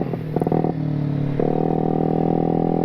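A GY6 50cc 139QMB Maddog scooter engine with a performance CVT kit bogs out, a close, loud, steady droning hum that sputters briefly before settling into a flat, strained tone without revving up.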